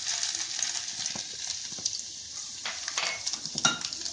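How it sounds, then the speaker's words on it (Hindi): Garlic sizzling and frying in hot oil in a kadai, a steady bright crackle with occasional small clinks and stirring scrapes, close by and alone. "लहसुन को थोड़ा सा भून देंगे।"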